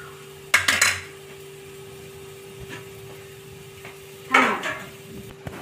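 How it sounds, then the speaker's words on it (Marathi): Hot chutney scooped from a pan onto a plate, two short bursts of a spoon clattering and scraping against metal, separated by quiet, with a faint steady hum underneath. "हे बघा, आता मी या ताटामध्ये मी काढून घेत आहे थंडी होण्यासाठी चटणी"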